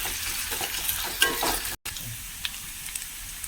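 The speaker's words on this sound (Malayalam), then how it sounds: "ചെറിയ ഉള്ളിയും വേപ്പിലയും കേട്ടോ, ഞാൻ ചതച്ചെടുത്തതാണ്. ഇട്ട് കൊടുത്തു. ഒന്ന് മൂത്ത് വന്നോട്ടെ." Crushed shallots and curry leaves fry in oil in a pan, giving a steady, close sizzle with a brief stir and small pops, briefly cut off once.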